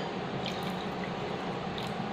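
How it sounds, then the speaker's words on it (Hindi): Water poured into a bowl of whisked curd and gram flour for a dahi besan aloo curry, a steady close liquid trickle and splash running the whole way without pause. "अब इसमें हम 1/2 कप पानी डालेंगे"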